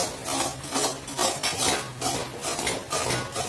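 A utensil scrapes and clinks against a pan in repeated strokes while Maggi noodles are stirred and mixed with masala powder, close and moderately loud, with no voices.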